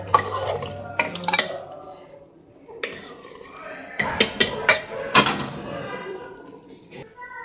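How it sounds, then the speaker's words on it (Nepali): The lid and whistle go onto a pressure cooker holding mutton and rice, with sharp metallic clanks, scrapes and clicks close by, loudest in a cluster near the end. "अब चाहिँ म यसमा सिटी लगाइदिन्छु सबभन्दा पहिलो कुरा।"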